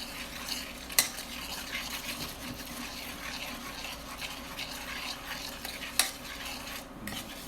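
Oil sizzling in a hot pan with garlic for a wilted spinach salad, a steady close frying hiss while a utensil stirs and scrapes, with two sharp clinks against the pan.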